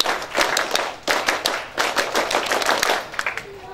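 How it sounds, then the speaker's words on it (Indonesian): Audience at a character-building workshop performs scout-style rhythmic clapping, tepuk pramuka, in sharp patterned bursts of unison claps with brief pauses, fairly loud and close. "2 kali tepuk pramuka semuanya."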